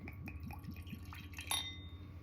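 Wine poured into a glass, a faint, quiet trickle with a few soft glass clinks near the end, heard close up without speech.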